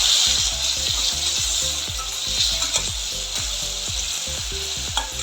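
Tomatoes added to already-browned onions and sautéed in a pan for an ivy gourd (tendli) dry curry, with steady loud sizzling and frying broken by regular rhythmic scraping and stirring of a spoon, with no talk.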